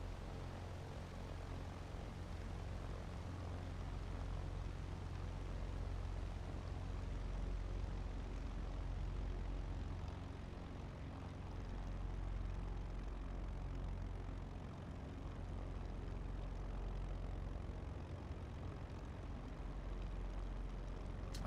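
A propeller aircraft engine drones steadily while taxiing at an airport in Microsoft Flight Simulator 2024, a continuous low hum holding an even level throughout with no speech over it.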